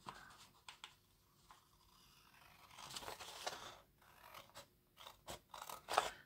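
Scissors snip and crunch through paper for a craft specimen-slide project, a series of quiet, close cuts in uneven bursts with soft rustling between them.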